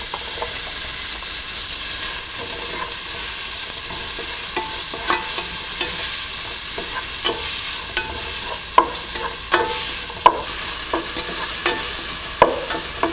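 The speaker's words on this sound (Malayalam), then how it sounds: "ഇതിലോട്ട് നമ്മൾ കട്ട് ചെയ്ത് വച്ചിരിക്കുന്ന സവോള ഇട്ട് വഴറ്റുക." Chopped onion sautéing in a pan, added after cumin seeds have crackled, for an aloo gobi: a steady sizzle and hiss with frequent clicks and scrapes of stirring, close and continuous.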